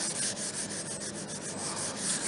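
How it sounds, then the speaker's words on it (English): Green scrubbies scouring residual silicone off an RV roof seam, a continuous close, loud abrasive scrubbing with quick back-and-forth strokes and no talking. "I went and got me some green scrubbies, and they're actually taking that residual silicone off pretty good."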